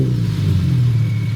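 An Infiniti car engine revs hard after a spark plug change, giving a loud, close, sustained low rumble that holds steady with no voices over it.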